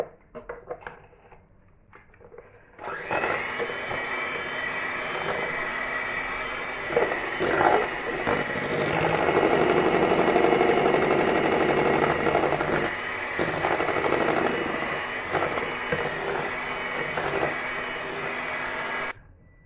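Electric mixer beating chocolate cake batter with cocoa, a loud continuous whirring drone that starts abruptly after a few seconds of quiet and runs steadily to the end, close by and alone.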